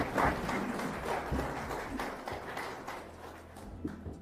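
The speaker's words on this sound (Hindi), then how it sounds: "ताली बजाइए आप लोग" Audience applause at an RCM business talk, scattered clapping from a crowd, moderately loud at first and thinning out over several seconds.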